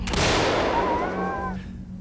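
A single gunshot is fired at a polar bear outdoors: one loud, sharp blast right at the start that rings out and decays over a second or so, followed by quiet.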